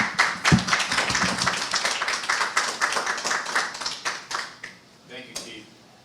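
An audience at a community conversation event applauds a speaker, a lively burst of many hands clapping up close that gradually thins and fades out.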